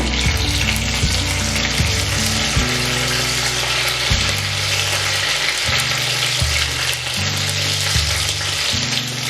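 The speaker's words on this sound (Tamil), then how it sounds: "எண்ணெய் சூடான உடனே கடுகு, கருவேப்பிலை, பிரிஞ்சி இலை போட்டு தாளிச்சுக்கோங்க." Mustard seeds, curry leaves and a bay leaf sizzle in hot oil for a crab masala, making a loud, steady crackle up close with a repeating scrape of stirring under it; no one speaks.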